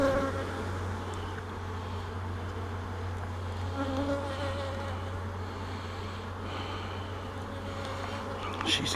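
Honey bees in a hive drone in a constant, close, dense buzz that holds steady for the whole stretch without a break.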